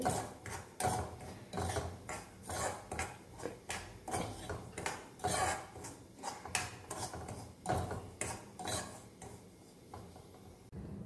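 Semolina is roasted in a pan for upma, with quiet, rapid scraping and ticking of a spoon against the pan in an uneven rhythm, close and soft.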